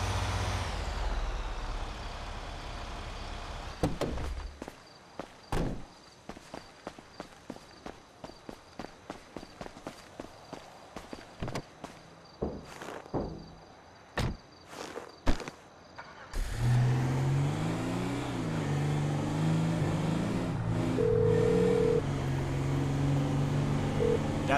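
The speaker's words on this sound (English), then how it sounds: "That's the garbage truck." A garbage truck in Grand Theft Auto 5 rumbles and revs, with an air brake hiss, after a long run of rapid footsteps; the engine swells loud near the end.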